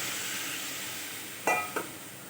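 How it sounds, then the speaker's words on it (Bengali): Boiled chickpea cooking water poured into hot sizzling masala for chana paneer, a steady frying hiss broken by two brief louder splashing sizzles close to the pan. "এবারে দিয়ে দেবো কাবলি ছোলা সেদ্ধ জলটা"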